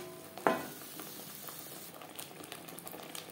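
Spice paste for a pomfret fish curry frying in a pan, with a sharp scrape of stirring at the start, followed by steady sizzling and small crackles.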